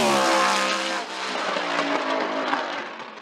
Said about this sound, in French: installons-nous dans la BMW M3E92 de Yannick Pansignon